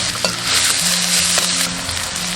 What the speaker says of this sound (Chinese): 锅中倒食用油，下入葱姜蒜炒香